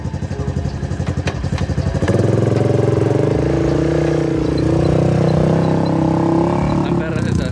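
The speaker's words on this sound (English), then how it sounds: "Diego, dale gas, enséñales" Honda 250 quad ATVs, brand new, revving hard with a steady droning engine roar that rises after a choppy idle; a voice speaks briefly at the start.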